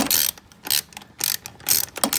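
A ratchet fitted with a 13 mm socket turns a nut on a Porsche 944 during a clutch master cylinder install, giving several close, rapid bursts of clicking separated by brief pauses.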